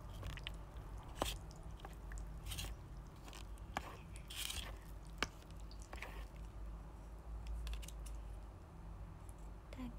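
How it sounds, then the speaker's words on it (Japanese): Someone eats dinner close to the microphone, with soft, irregular bites and chewing sounds scattered over a quiet room background. "夜ご飯もぐもぐ配信でございます"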